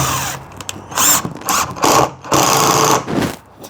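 A cheap $40 impact driver driving screws, several loud whirring and rattling bursts of about half a second each, separated by short pauses, close and alone.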